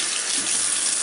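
Tap water runs steadily from a faucet to wet a makeup brush held upside down, a close, loud, even hiss with no talking.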